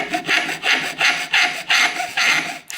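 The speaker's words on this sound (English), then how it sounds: "I'm just going to go ahead and start carefully filing on here until I get down" A hand file rasps against a bicycle frame's metal cable stop in six steady back-and-forth strokes, close and fairly loud, each stroke a bright scraping burst with short pauses between.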